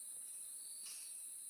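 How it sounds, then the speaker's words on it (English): Crickets chirp outdoors at night as a steady, faint high-pitched trill that holds evenly throughout, with a slight swell partway through and no voices. "I guess the crickets are going"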